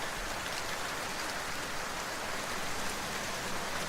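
Steady, dense rain falls in the dark mountain setting of the prototype indie game Stranded in Darkness, a constant hiss with no breaks and no voices.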